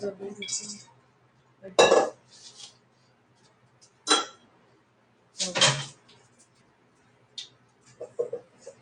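A metal mixing bowl is picked up and set down with several sharp clanks and clinks at uneven intervals while preparing fresh ahi poke in a kitchen, close and clear against a quiet room.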